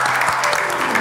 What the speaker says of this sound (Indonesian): Ya udah, tepuk tangan buat Livi.